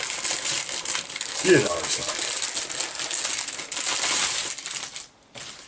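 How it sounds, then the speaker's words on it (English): Close, noisy crinkling and tearing of a magazine's plastic packaging, continuous for several seconds before stopping, with a voice briefly speaking over it. "excuse the noise while I open the magazine."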